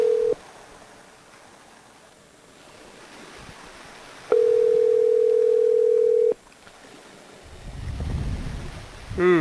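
Telephone ringing tone on an outgoing call to a grandmother: a steady electronic tone sounds briefly, then a longer two-second tone after a pause, followed by soft rustling noise.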